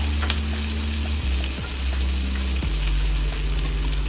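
Vegan French toast fries in a pan on high heat, giving a steady, dense sizzle that holds at an even loudness throughout, close up and with no voices.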